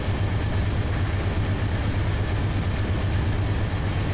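A 12,000-ton coal freight train's locomotive runs in Run 8 Train Simulator, giving a steady, loud, low diesel rumble that drones on alone without a break.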